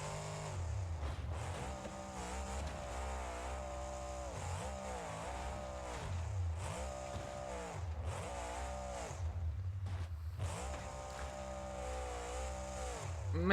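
A game monster truck roars along with a steady, throaty engine drone, rising and dipping in pitch as it revs, surges and lands during a freestyle run; loud and continuous, no talk.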